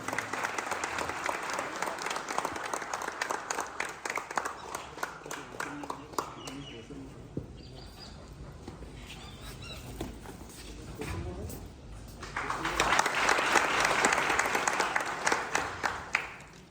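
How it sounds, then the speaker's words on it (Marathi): An audience at a workplace safety week program claps loudly, and steady applause swells, thins out in the middle, then rises again to a full round near the end. "त्यांच्यासाठी सुद्धा एकदा जोरदार टाळ्या वाजवा"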